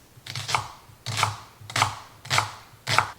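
Knife slicing a leek thinly on a cutting board, five evenly spaced crisp chops with a soft thud beneath each, close and clear with no talk.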